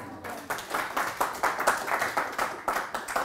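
Audience applause following a talk, a steady patter of many hands clapping with rhythmic peaks, moderately close and sustained for a few seconds without speech.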